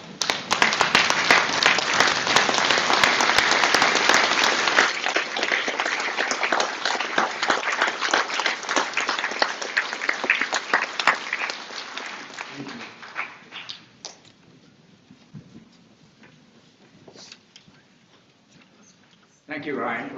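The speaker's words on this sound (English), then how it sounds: "give one last round of applause for my friend, the legend" Audience at a memorial service stands and applauds for a late friend, with dense, loud clapping that fades out gradually toward the end, followed by a voice starting to speak.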